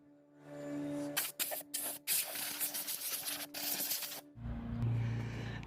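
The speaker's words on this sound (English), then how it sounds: "this is ready to go ahead and spray another coat" A spray gun hisses loudly in several bursts of clear coat, broken by short pauses. It gives way to a low, steady machine hum at the end.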